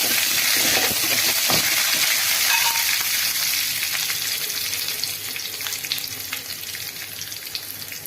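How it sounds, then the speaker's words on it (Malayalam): Chopped shallots with urad dal fry in hot oil for a cabbage thoran, giving a loud, continuous close sizzle and hiss that eases slightly toward the end, with no talk. "കുറച്ച് ചെറിയുള്ളി അരിഞ്ഞത്, നല്ല രീതിയിൽ മൂപ്പിക്കുക."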